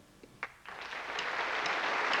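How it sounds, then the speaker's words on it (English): A crowd at a Children in Need charity concert breaks into clapping after a few isolated claps. The applause swells quickly into a sustained wash of hands that grows fuller and louder, heard from a distance. "Everybody clapping, man"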